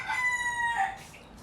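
A rooster crows once at a moderate distance, a single drawn-out call lasting about a second over a faint background.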